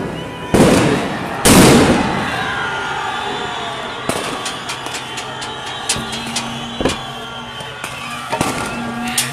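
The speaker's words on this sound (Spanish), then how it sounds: "ahí están las fuerzas policiales solo disparando" Police firing during the 2019 Ecuador protests, with two loud, close blasts early on, followed by scattered distant pops and bangs over street noise and an engine drone.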